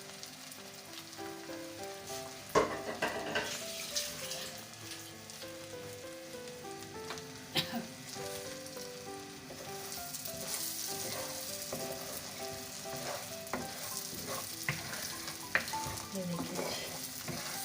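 Bheja fry, a brain masala with two eggs added, frying in a pan, with steady close sizzling and scraping stirs throughout and a few sharp clinks, while someone speaks briefly.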